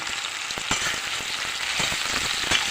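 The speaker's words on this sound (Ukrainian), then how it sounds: "підсмажуємо на олії цибулю" Steady sizzling and crackling of onions frying in hot oil, with small pops and occasional stirring scrapes, close and continuous.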